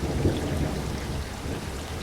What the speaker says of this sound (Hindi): आसमान फट गया था। इतनी तेज बारिश कभी नहीं देखी थी।